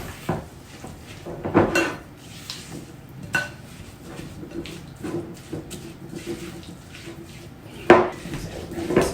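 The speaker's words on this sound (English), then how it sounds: "Mix this all together." Breadcrumbs, tomato paste and garlic being mixed in a bowl for stuffed tomatoes, with scattered scrapes and clinks of a utensil against the bowl at an uneven pace, fairly close, with faint background noise.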